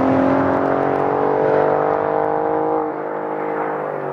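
A Ferrari-derived 90-degree twin-turbo V6 in an Alfa Romeo Giulia Quadrifoglio gives a loud, sustained harmonic drone under load, pitch easing down gradually before the engine quietens near the end; no voices.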